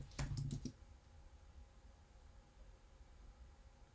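Short burst of computer keyboard typing as a password is entered, a quick run of close key clicks lasting under a second, then quiet room hiss.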